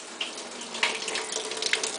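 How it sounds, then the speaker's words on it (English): Water splashes and pours into a cooking pan for couscous, a steady close trickle with small bubbling spurts and no voices. "So you take your half a cup of water, you put it in the pan"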